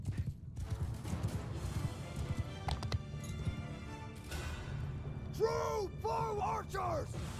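In a video game battle, horses move with rapid hooves clip-clopping under a low rumble of the fight, then a few loud whinnies ring out near the end.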